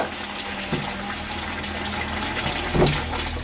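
Water gushing steadily from a leaking outdoor shower valve, a continuous broadband hiss and spray close by, with a few brief knocks and splashes partway through.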